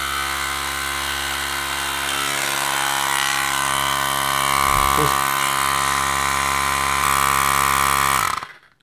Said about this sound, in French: vous avez entendu le compresseur, hein, concrètement